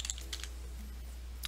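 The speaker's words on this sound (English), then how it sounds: "just type a profile name" Light keystrokes tap on a computer keyboard as a profile name goes in, a few brief clicks over a steady low electrical hum.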